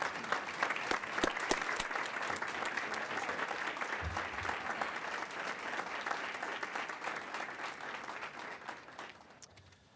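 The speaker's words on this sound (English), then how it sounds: "So if we can give him a round of applause for a well-earned award." An audience at a board of education meeting applauds an award recipient, a steady wash of many hands clapping that holds for several seconds and then fades out.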